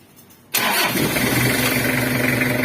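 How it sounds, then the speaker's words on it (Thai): A Toyota Hilux Mighty-X engine starts by push-start button: a short quiet lead-in, then an abrupt crank and catch into a loud, steady, close idle that continues to the end. "กดปุ่มสตาร์ทเครื่องค้างไว้ครับห้าวิ"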